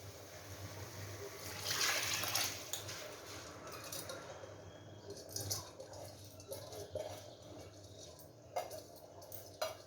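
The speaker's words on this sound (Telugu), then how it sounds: "6 గ్లాసులు నీళ్లు పోసాను." Six glasses of water pour and trickle into a pressure cooker with soaked rice for chicken pulao in a steady splashing stream, with a few metallic clinks from cookware along the way.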